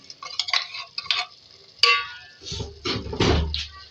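Freshly ground spice masala of cumin, green cardamom, black pepper, nutmeg and mace being stirred into chicken gravy: light spoon taps and scrapes, then a thicker, louder stirring near the end.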